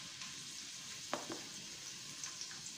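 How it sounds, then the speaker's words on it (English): Garlic frying in a pan, a soft continuous sizzle with a few brief stirring scrapes, close but quiet, with no talking. "You put the garlic there"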